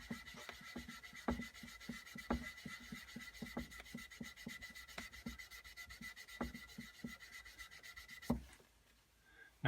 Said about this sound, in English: First, I'll try the magic eraser right here.